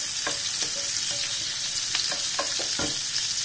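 Shrimp heads frying in hot oil give a dense, continuous sizzle, with several short clicks and taps of a utensil stirring in the pan, close and steady.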